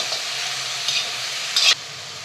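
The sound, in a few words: stirring potato, cucumber, pumpkin into sizzling tempering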